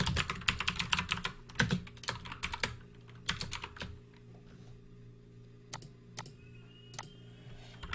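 Keys clatter on a computer keyboard in quick bursts as a message is typed, then thin out to a few isolated taps over a faint steady hum, with no speech.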